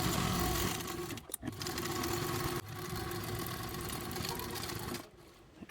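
A sewing machine bastes a slip pocket onto the lining of a crescent-shaped bag with an eighth-inch seam allowance, running in a steady whirring hum broken by a few brief pauses, with no talking.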